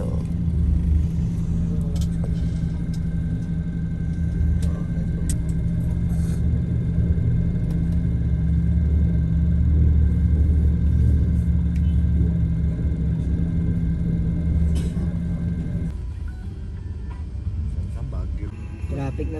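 Road traffic in Manila, a continuous low rumble of car engines and passing vehicles that holds steady and then drops quieter near the end.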